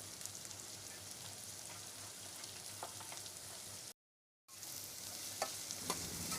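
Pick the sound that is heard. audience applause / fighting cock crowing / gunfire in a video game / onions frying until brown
onions frying until brown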